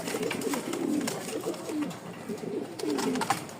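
Lahori or Jacobin pigeons offered for sale in Mirpur-1, Dhaka, cooing close by in repeated low, rolling calls that carry on throughout without any talking.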